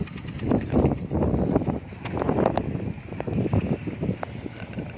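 Steady wind buffets the microphone at a coastal fishing harbour in Panare, Pattani, Thailand, where small local fishing boats are moored; the gusting rumble stays loud and continuous throughout with no talking.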